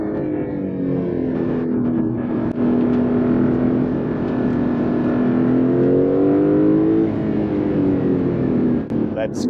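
Porsche 911 Turbo S engine pulling hard at high speed, a loud steady drone with rising and falling pitch across the run, close and continuous, with the noise of the moving car and no speech over it.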